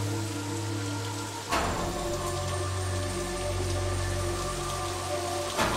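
Rain falls steadily in a Tamil thriller film scene, a continuous hiss with a sudden thud partway through and a low drone underneath.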